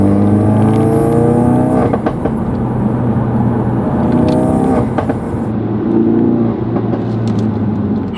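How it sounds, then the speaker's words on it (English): A Ford Focus RS engine revs hard with a loud intake and air-filter roar, rising and falling in pitch through several strong pulls. It is heard close from inside the car, without talk. "I hope you guys can really hear that intake or the air filter."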